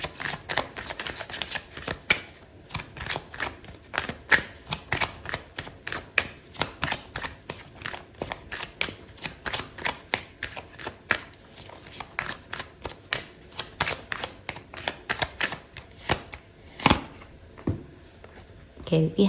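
Tarot cards being shuffled and drawn from the deck, a steady run of quick crisp riffling snaps and slaps up close, with a person talking softly underneath.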